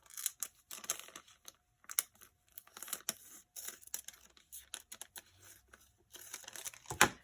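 Paper layers for a handmade wisdom journal are cut back and handled. Sharp snips and crinkling rustles come in short, uneven bursts close up, with quiet gaps between them.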